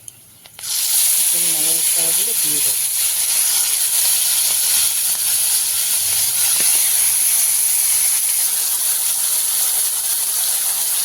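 Spices for chicken chaap hit hot oil and erupt into a loud, sustained sizzle that starts abruptly after a brief quiet moment, with a few faint clinks early on and no voices over it.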